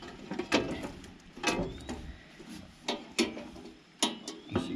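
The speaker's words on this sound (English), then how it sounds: "And then we'll take this cover off." Removing a cover from a John Deere brush hog produces a series of sharp metallic clicks, clanks and scrapes at irregular intervals, fairly quiet and close, with no talking.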